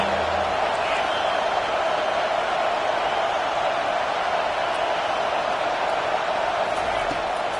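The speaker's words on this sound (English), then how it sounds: "Decibels rising as the crowd gets behind this defense on 3rd down." A stadium crowd in a college football video game roars on third down, a dense, sustained wash of cheering that holds steady and loud throughout, with commentary voices faintly woven in.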